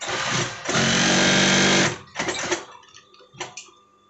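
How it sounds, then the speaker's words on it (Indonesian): A sewing machine stitches the vent of an almamater jacket, running in one long steady whirring burst up close, then stopping and starting in short uneven bursts. "Kita langsung jahit ke atas ya, langsung dijahit ke atas."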